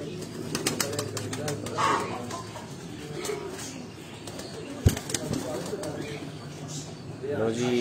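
Pigeons coo in soft, repeated low calls close by, with occasional wing flaps and one sharp knock, all under steady talking.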